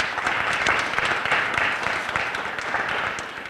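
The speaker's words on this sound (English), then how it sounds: "let's give our families a round of applause as well" Students at a high school recognition ceremony applaud their families, a dense burst of clapping from a large indoor crowd, steady for a few seconds and then easing.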